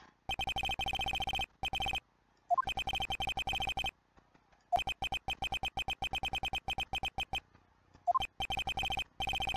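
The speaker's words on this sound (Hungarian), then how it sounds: "A telefonszám arra csörög, ami Wellington kezében van." Phone ringing in Phoenix Wright: Ace Attorney - Justice for All, an electronic ringtone of rapid pulsed bursts repeating in groups separated by short silences, fairly loud and alone.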